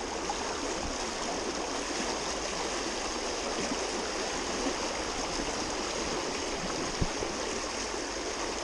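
A UK or Irish trout river runs high with plenty of water, giving a steady, full broadband rush of flowing current with one brief knock near the end.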